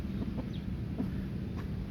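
A rooster feeding on termites at a termite nest gives a few soft, low clucks close by, under steady wind noise on the microphone.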